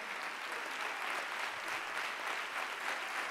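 A sports gala audience in Ceuta keeps up a sustained, even applause, a steady wash of many hands at moderate distance throughout.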